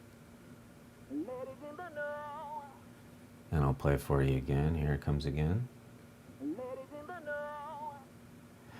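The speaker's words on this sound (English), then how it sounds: "So what it is it's like a Moog filter delay thing" A sung vocal line run through a Moog-style filter delay, its sweeping filter drawing the notes into gliding, whiny tones. It plays twice, with a stretch of close, loud talking between the two passes.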